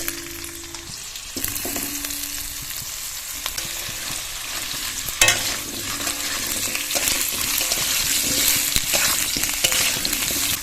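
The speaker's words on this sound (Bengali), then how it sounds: "আলুটা খানিকক্ষণ 2-3 মিনিট লাল করে ভেজে নেব মিডিয়াম ফ্লেমে" Potatoes frying in oil with whole cumin and dried chili over a medium flame give a steady, close sizzle throughout, with occasional stirring clatter and a sharper scrape near the middle.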